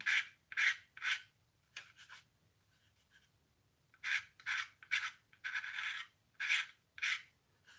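A blade scrapes plastic parts of an Eduard 1/48 scale Tempest model aircraft kit in short, crisp rasping strokes, close and distinct, grouped in quick runs separated by quiet pauses.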